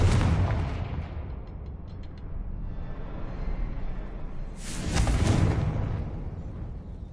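A Confringo explosive spell blast in Hogwarts Legacy: a low rumbling boom that swells, eases, then bursts again with a harsher crack near the end, moderately loud with no talking.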